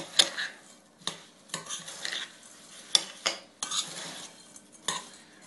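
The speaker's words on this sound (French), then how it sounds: "Je remue." Melted butter being stirred into a crushed biscuit base with a utensil, giving intermittent scraping and clinking strokes against the bowl at an uneven rhythm, close and moderately quiet, with no voices.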